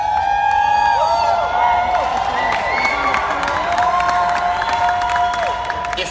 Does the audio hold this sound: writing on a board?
no